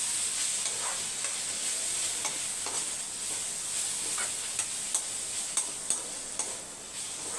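Ivy gourd stir-fries and roasts in a pan, a steady close sizzle with a bright hiss and scattered ticks of the spatula scraping, alone without voices.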